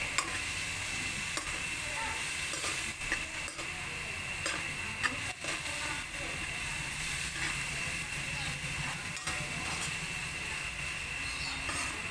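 Corned beef and cabbage cook in a pan under a constant close sizzle, with scattered scraping and clicking strokes as the mixture is stirred.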